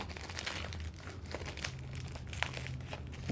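Paper wrapping is crumpled and torn off the receiver of a Mosin Nagant 91/30 sniper rifle, a close series of crinkling rustles and rips with no talk.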